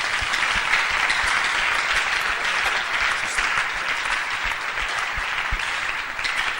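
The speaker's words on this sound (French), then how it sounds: "Acclame très fort" A large congregation at a French-language Christian sermon on spiritual gifts claps loudly, a dense, steady wall of applause that holds strong and unbroken from start to finish, with no voices rising above it.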